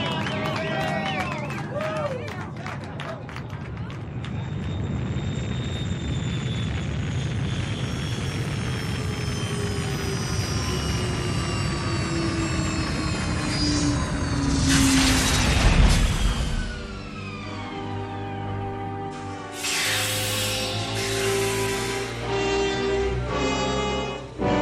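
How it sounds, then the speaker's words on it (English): Rocket engines of a landing spaceship roar in a radio drama, a long rising and falling engine whine building to a loud blast midway, with voices speaking over it and a tonal hum trailing after. "Those are rocket engines. I remember the sound of it. That's the ship."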